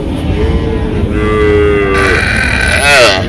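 A calf moos loudly and close, a drawn-out bellow that rises and wavers toward the end, with a faint background hum.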